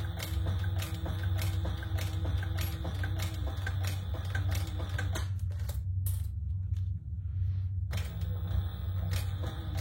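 A sewing machine runs steadily while back stitching, with a dense mechanical rattle and rapid needle clicks, a brief pause near the middle, then the stitching resumes, close and even in level with no voices.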